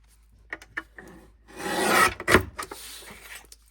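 Scissors cutting a triangle off a Christmas in the City mini album page, a close rasping snip of paper lasting about a second after a few light taps, then a couple of softer rustles.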